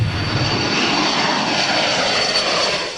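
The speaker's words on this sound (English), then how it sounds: "A U.S. military spy plane is on a mission to catch cocaine-loaded speedboats" A U.S. military spy plane flying overhead on a counter-narcotics patrol; a loud, continuous aircraft engine roar that stays steady and fills the scene.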